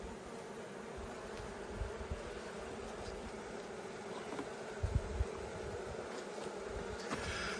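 A dense, steady drone of many bees swirls around an open hive in an Australian bee yard, continuous and close for the whole stretch with only faint knocks, and no talking.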